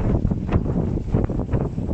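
Strong gusty mistral wind buffets the microphone in a steady roar with surging rumbles, loud and close, no voices.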